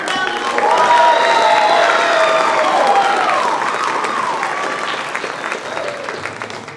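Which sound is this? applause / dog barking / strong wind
applause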